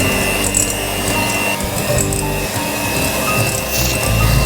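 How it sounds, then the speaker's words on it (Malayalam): Butter and brown sugar being beaten together for sticky toffee pudding, a steady loud rubbing, whirring mixer sound running continuously with no talk. "വെണ്ണയുടെ കൂടെ ഇങ്ങനെ ബീറ്റ് ചെയ്യും"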